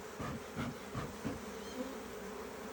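Honey bees buzz at a Langstroth hive during a winter inspection, a steady, fairly quiet insect drone with a few swelling pulses as agitated bees fly close by.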